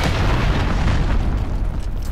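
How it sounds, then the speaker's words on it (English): An incoming cruise missile strike detonates in Call of Duty: Modern Warfare multiplayer, a heavy, rumbling boom with deep bass that rolls on continuously without any voices. "Enemy cruise missile incoming,"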